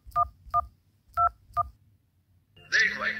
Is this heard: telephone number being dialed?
yes